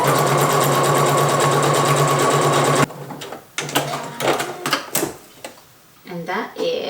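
A sewing machine fitted with a button foot stitches buttonholes in a loud, fast, even whir for about three seconds, then stops, leaving softer handling clicks and rustles as the work is moved.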